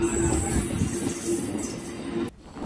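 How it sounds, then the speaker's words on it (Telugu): A MEMU passenger train rolls into Ghatkesar station, wheels squealing steadily with a high whine over a loud, continuous rumble of rail noise, until the sound drops away abruptly near the end. "ఇక్కడే మన ట్రైన్ గట్కేసర్ స్టేషన్లోకి ఎంటర్ అవుతోంది"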